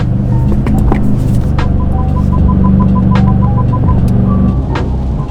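A BMW M4 fitted with a VRSF exhaust cruises along, its deep steady engine drone and road rumble filling the cabin continuously, with faint chimes and light clicks over the top.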